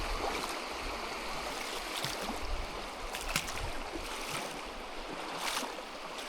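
River water rushes and splashes during a river crossing in Patagonia, a broad continuous wash with scattered splashy bursts, fairly close and steady throughout.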